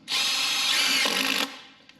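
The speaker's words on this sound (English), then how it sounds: "And if we take our screw here and drill it in, you guys will notice that we are fighting it." An impact drill whines loudly and steadily up close for about a second and a half while driving a screw into a tire, with a rattling impacting edge before stopping abruptly.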